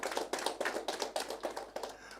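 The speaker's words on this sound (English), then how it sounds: "A round of applause for University of Lagos." Studio audience clapping for University of Lagos at a TV accountancy quiz show, a quick, fairly quiet patter of hands in slightly uneven bursts that thins out toward the end.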